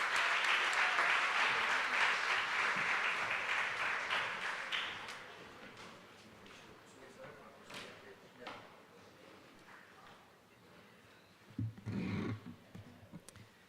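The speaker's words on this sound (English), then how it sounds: "So give these guys a round of applause." Parents at a junior varsity baseball banquet applaud warmly for about five seconds, then the clapping fades into scattered room noise, a few knocks and a short burst of talk near the end.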